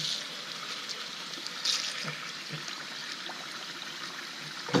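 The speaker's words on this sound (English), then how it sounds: "Now what I have here is the pan, and I'm going to add some water" Water runs into a pan in a kitchen, a soft continuous trickle and stream with a few light clinks and knocks, fairly quiet and without speech.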